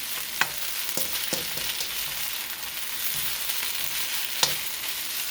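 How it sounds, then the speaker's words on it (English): Chicken and scallion ends stir-fry in a hot pan, a steady close sizzle with a few sharp utensil scrapes and clicks as the pieces are tossed around. "So they're going in now. I'm going to stir that around a little bit."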